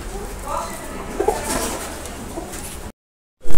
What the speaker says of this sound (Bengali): যে কবুতরগুলো দেখালাম